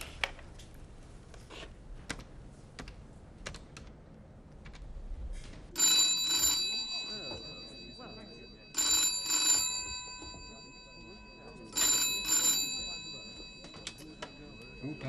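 An old telephone bell rings in three separate bursts a few seconds apart, each loud and close, after a stretch of quiet clicks and movement.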